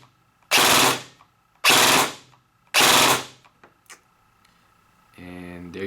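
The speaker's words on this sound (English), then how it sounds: "now it should be a 5-round burst" A VFC SCAR airsoft AEG with a Kong Power Burst Wizard MOSFET fires three loud, evenly spaced bursts, each a dense roughly half-second rattle, followed by faint clicks and then a voice speaking.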